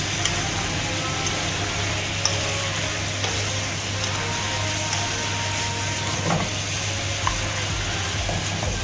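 Tomatoes and potatoes sizzle steadily in hot oil for a chicken curry, with scattered scraping clicks as they are stirred and turned in the pan, close and continuous with no talk.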